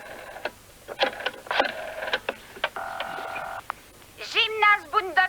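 Telephone number being dialed by hand on a phone, a quick series of short electronic beeps and tones of varying pitch, followed by a warbling ringback-like tone, with faint background ambience and no talk.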